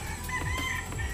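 A few soft clucks from chickens, fairly quiet against a steady background hum, with no talking.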